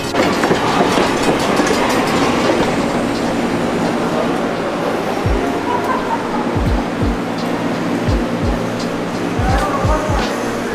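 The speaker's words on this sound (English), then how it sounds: "And you can see again the steam train is also coming up in the background there." A steam train at Heritage Park rolls along with steady rumbling and repeated clickety-clack wheel knocks, loud and continuous throughout, while a voice speaks faintly over it.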